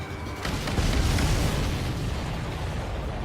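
Explosions roar in the air-combat game Ace Combat 7, a dense, loud, sustained blast with a rumbling tail that fills the whole moment and has no talking over it.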